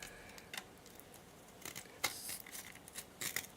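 Scissors snip tabs off an electronic circuit board being stripped for gold pins, a few sharp close clicks and cuts spaced out over a quiet background.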